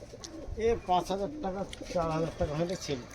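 A pair of Rajasthani pigeons coo close by, repeated rhythmic throaty coos over about three seconds, with some background voices.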